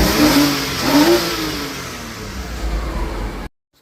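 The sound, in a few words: Porsche engine revving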